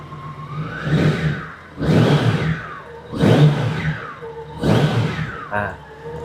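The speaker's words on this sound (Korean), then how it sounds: "스로틀 반응도 아주 좋습니다." A used Honda Gold Wing 1800 motorcycle is revved with the throttle four times in a row, each rev swelling loudly and close, then falling back to idle between pulls.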